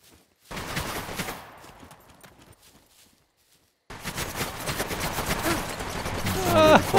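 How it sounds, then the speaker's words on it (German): A fully automatic weapon fires in the survival game SCUM, with rapid bursts of shots, a quieter gap, then a louder sustained stream of fire, while voices talk over parts of it. "Vollautomatische Waffe"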